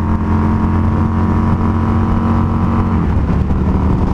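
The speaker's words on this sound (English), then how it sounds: "You guys can hear the exhaust on the mic." A 2019 Indian FTR 1200S motorcycle's exhaust drones loud and steady while riding, a deep continuous engine hum with a slight shift in pitch near the end.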